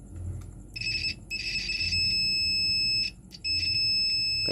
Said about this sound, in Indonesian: suara buzzernya gede.